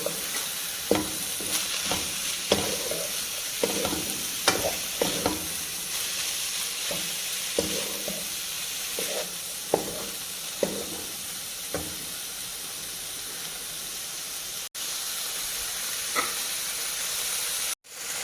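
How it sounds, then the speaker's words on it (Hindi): Half a kilo of minced chicken fries in a pan with a constant close sizzle, while a spoon scrapes and stirs in irregular knocks and strokes over about eighteen seconds, no voices present. "चिकन को मैंने तकरीबन 5 मिनट तक फ्राई कर लिया है।"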